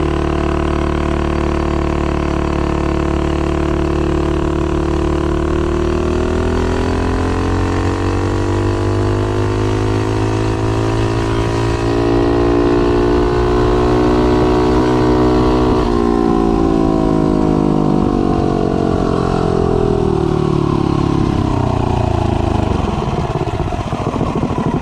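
A Mega Moto 80 minibike on a top speed run with a 4.46 gear ratio and 15-tooth clutch, its small engine buzzing loudly and climbing steadily in pitch as it gathers speed, with a short shift midway.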